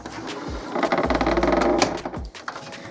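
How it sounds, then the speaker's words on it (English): An HP Photosmart 6520 printer slides its ink cartridge carriage across after the lid is lifted, a close whirring mechanical run of about a second with clicks before and after. "the printer will realise the lid has been lifted and slide the ink cartridges across to a point where we can change it"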